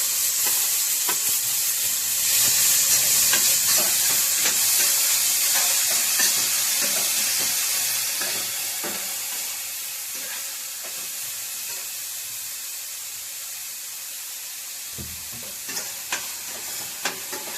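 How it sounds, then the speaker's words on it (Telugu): Chopped onions frying lightly in a pan for mushroom curry give a steady close sizzle with occasional stirring scrapes, loud at first and easing somewhat after the midpoint. "మనం ముందుగా కట్ చేసి పెట్టుకున్న ఆనియన్స్ని వేసి లైట్గా ఫ్రై చేసుకోవాలి"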